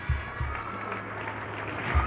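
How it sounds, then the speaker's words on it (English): Students, parents and guests in a school hall clap together during a 51st anniversary programme, giving a steady, even wash of applause with a few low thumps. "Give a big hand clap."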